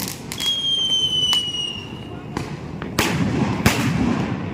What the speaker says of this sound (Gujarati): તો આ છે અમારી સોસાયટીની બહાર આટલા ફટાકડા ફૂટેલા છે.